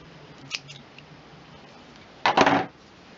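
A faint early snip, then a single short, louder crunching cut of scissors through craft ribbon in a quiet room.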